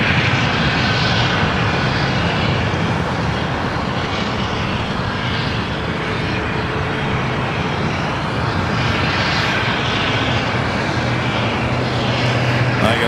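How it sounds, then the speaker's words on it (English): An Airbus A220-300 airliner arriving at LAX roars with a broad, continuous jet rush that holds loud and steady at a distance, with no talk over it. "Beautiful Airbus A220-300. It's your next arrival here on the south side."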